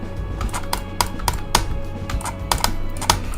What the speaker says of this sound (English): Is my clicking loud, by the way?